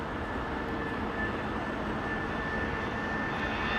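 An aircraft taxiing in fog at London Heathrow gives a steady, droning jet engine roar with a faint high whine, continuous and fairly near, with no voices.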